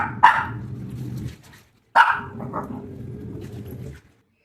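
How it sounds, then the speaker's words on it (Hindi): A dog gives two loud barks close by, each trailing into a low growling rumble, with a short pause between them. "देखा ऐसे भौंकने लग रहा था ये।"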